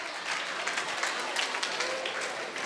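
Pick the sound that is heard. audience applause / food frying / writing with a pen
audience applause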